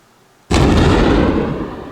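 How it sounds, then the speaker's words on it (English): A cannon in a video game fortress map fires with a sudden loud boom, followed by a sustained roaring rumble that slowly fades. "there's like this cannon up there firing"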